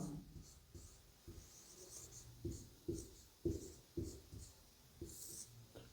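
Pen or chalk writing out a maths solution in a classroom lesson, a series of short scratchy strokes in an irregular rhythm, moderately close and fairly quiet.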